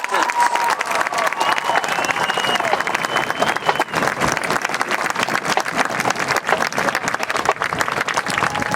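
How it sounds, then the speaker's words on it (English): Dense, sustained applause from a stadium crowd at a 2016 district marching band showcase, continuous rapid clapping throughout, loud and close, with some scattered cheers and a voice over the loudspeaker. "how about a big round of applause for the Eastridge Marching Raptors?"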